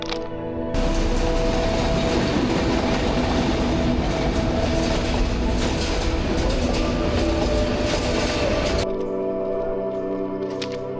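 A train runs along a narrow railway track through a gajari forest in Bangladesh, its loud rumbling and rolling clatter holding steady for about eight seconds close by before cutting off to quieter surroundings.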